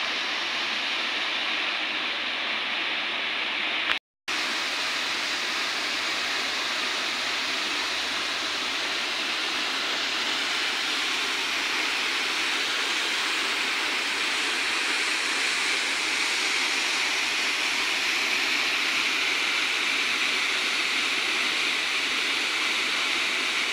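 Cascata dei Cavaterra waterfall at Nepi as a constant hissing rush of falling water, steady and fairly loud, with one sharp momentary dropout near the start and no voices.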